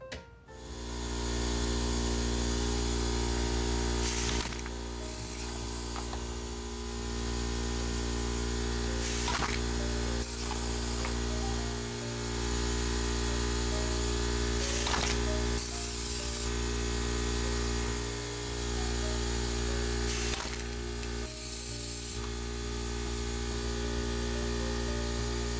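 A KANBOL wall-mounted pneumatic aluminum can crusher runs with an air compressor droning steadily, while short forceful hissing bursts and crunches recur every few seconds as cans are crushed.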